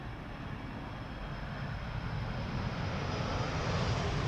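A KLM airliner arrives at Amsterdam Schiphol Airport, heard as a faint, distant, steady jet engine rumble that swells slightly toward the end, with no voices.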